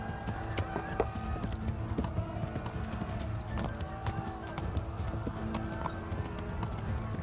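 A horse galloping at full speed in the video game Kingdom Come: Deliverance, its steady rapid hoofbeats running continuously throughout over a dense in-game ambience, with no voices.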